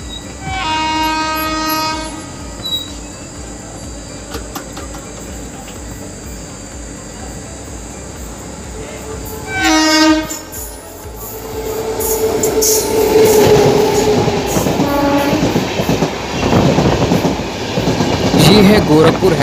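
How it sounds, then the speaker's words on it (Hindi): The Gorakhpur Hyderabad Express sounds its horn in two long blasts, then rumbles past loudly and grows heavier to the end, with crickets chirping in the background. "यह है गोरखपुर हैदराबाद एक्सप्रेस।"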